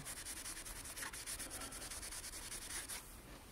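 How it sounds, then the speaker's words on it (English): A dry eraser scrubs sticky residue from a melted plastic protector off the keypad of a Yale door lock, making close, steady, rapid rubbing strokes that continue without pause. "So I'm using a dry erase. To remove most of that residue."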